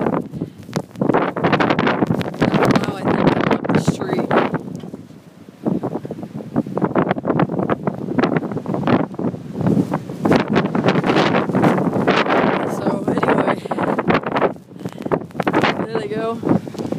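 Blizzard wind whips hard outdoors, roaring in heavy gusts against the microphone while a person talks over it throughout.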